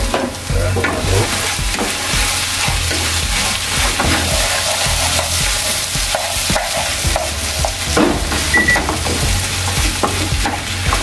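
Vegetables sizzle loudly in a hot pan while a utensil stirs and scrapes, with occasional clinks against the metal.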